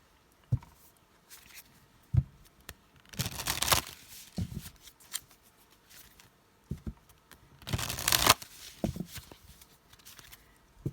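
Tarot cards are shuffled in two brisk riffling bursts, with soft slaps and taps as single cards are drawn and laid down between them, close and fairly quiet.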